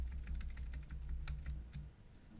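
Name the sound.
pressing keys on a computer keyboard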